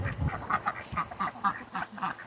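Ducks on a mini farm quack repeatedly in an even rhythm, about two calls per second, close and clear, with no talking over them.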